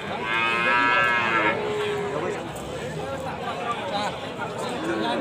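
Cattle moo at the Kragan cattle market in Rembang, Central Java, Indonesia, one long loud low call up close at the start, then more lowing and crowd chatter, with someone talking over it.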